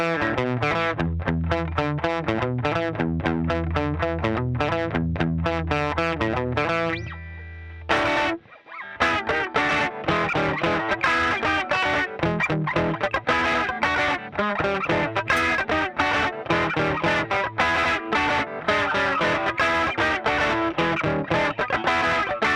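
Electric guitar with a P90 pickup plays through a Fender amp with distortion, a loud, continuous run of driven chords and notes with one brief break partway through.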